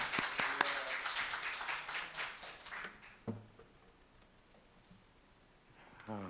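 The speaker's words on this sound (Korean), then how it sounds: "우리 할렐루야로 박수로" Church congregation clapping to welcome a visiting pastor at a worship service, fairly faint and fading away over several seconds, with a short bit of speech near the end.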